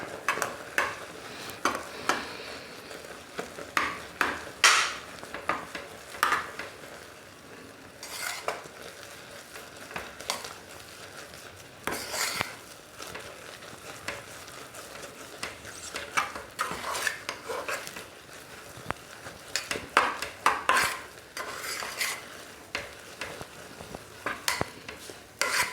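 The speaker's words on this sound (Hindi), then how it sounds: "फ्लेम कम करके अब इसको इस तरह से मिला देंगे पानी में" Rice flour is stirred into water in a pan over a low flame for making papad, giving repeated scraping and swishing strokes of a spoon against the metal, with light clinks and a faint sizzle, and no talking.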